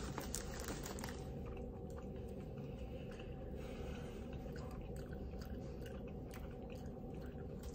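Someone chewing a piece of meat to taste it plain, close and quiet, with steady wet mastication and soft crunching throughout, no talking over it.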